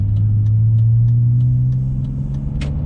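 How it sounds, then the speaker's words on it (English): A manual transmission car pulling away in first gear gives a steady, close engine rumble whose low drone rises slightly in pitch as it gains speed. "And slowly let the clutch out and give it gas."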